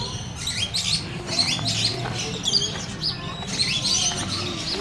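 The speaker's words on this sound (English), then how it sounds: "Oh, what beautiful birds." Birds in an aviary give repeated bright chirps and tweets with a few low coos, close and fairly lively, over soft background murmur from an outdoor park.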